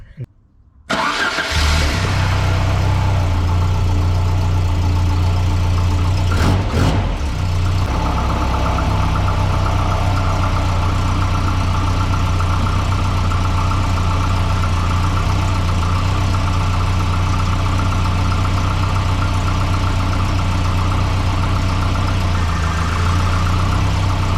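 A car engine cranks and starts, then settles into a steady, loud, close idle that runs on for over twenty seconds, with a brief disturbance partway through.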